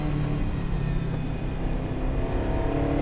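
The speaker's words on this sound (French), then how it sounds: "Le moteur reprend pas dans les tours." A Ferrari 308 GTB engine pulls while driving, a loud, steady, close engine drone that holds for the whole stretch with no voices over it.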